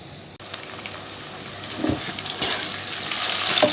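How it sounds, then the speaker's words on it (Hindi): Sliced onions fry in oil in a pan, browning for chicken payaz, giving a steady close sizzle that thickens and grows louder as they cook, with no talking. "ये प्याज को मैंने स्लाइस कट किया, इसमें से मैं आधा इसमें ऐड कर दूंगी। इसको मैं अभी ब्राउन कर दूंगी।"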